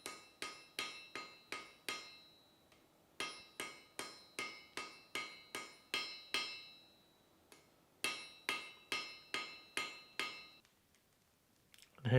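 A steel bar is hammered at a forge to upset it, the blows falling in steady bursts of sharp metallic ringing strikes separated by short pauses, close and clear with no talking.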